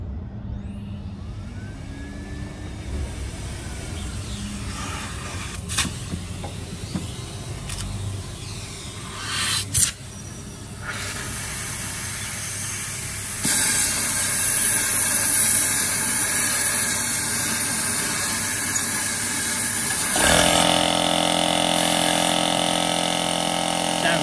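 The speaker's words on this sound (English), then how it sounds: "We'll blast the walnut down and move it round as much as we can." A small air compressor at full 8 bar blasts walnut media into the intake of a misfiring Mini Cooper S R56 engine, a steady loud hiss that grows harsher midway, with brief hands-on knocks and faint talk.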